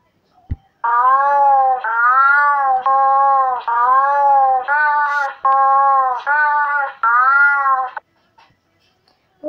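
A cat meows loudly and close by, seven drawn-out wavering cries in a row with short pauses between them.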